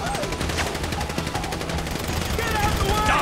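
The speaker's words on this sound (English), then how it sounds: "So I guess we're shooting our way out of here!" Dense, continuous automatic gunfire from the GTA 5 video game rattles steadily throughout, loud and close, with shouting voices mixed underneath.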